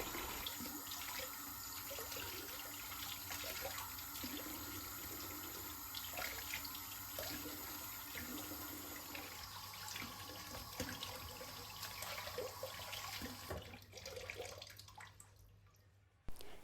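Grape leaves being washed under a running kitchen tap, with a steady close stream of water splashing into a sink that fades out at the end.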